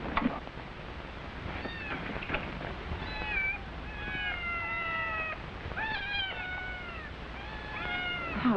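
Several cats meow repeatedly in a quiet indoor room, a mix of short and drawn-out mews, close and clear with no talking.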